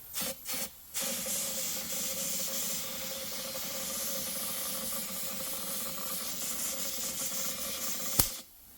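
A powder coating gun sprays powder on 13B rotary engine parts with a steady, close, broadband hiss lasting several seconds, preceded by a few short bursts and ending with a sharp click.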